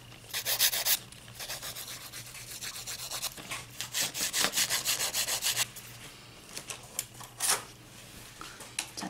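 Rapid scraping rubs of a nail file shaping fingernails come in short bursts and rhythmic strokes, a close gritty filing sound that pauses and resumes, with a faint steady hum underneath.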